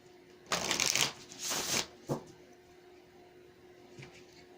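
Tarot cards being shuffled for a reading: two loud, close riffling bursts, then a short tap and faint rustles, with no talking.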